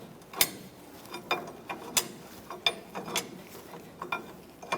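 A nut being tightened onto a radius arm bolt on a 1993-1997 Ford Ranger, with a series of crisp ratchet clicks coming in short uneven bursts, close and moderately loud.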